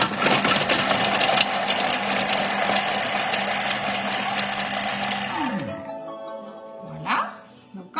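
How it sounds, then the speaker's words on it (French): A Thermomix food processor chops halved shallots at speed 5, a loud, steady whirring blade roar lasting about five seconds before winding down, then a few electronic tones. "on va les mixer 5 secondes"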